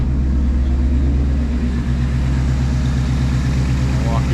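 A 2024 Mustang GT with a Steeda cold air intake runs steadily at a loud, close idle, a deep continuous rumble that holds throughout without revving.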